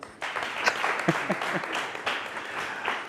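A studio audience applauds performers with a steady wash of clapping that runs close and lively for about three seconds, with a few louder claps standing out.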